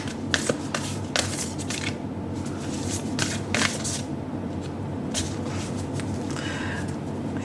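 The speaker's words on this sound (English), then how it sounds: "I find these the most difficult cards to shuffle." A deck of tarot cards is shuffled by hand up close, with a run of crisp papery riffles and flicks in uneven bursts over a soft steady background.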